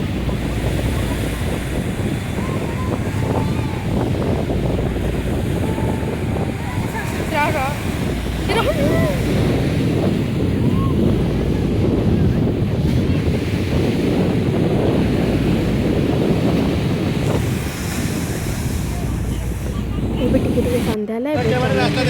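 Sea waves rolling onto the beach at Puri make a steady, continuous surf roar mixed with gusty wind buffeting the microphone, with a dull thump near the end.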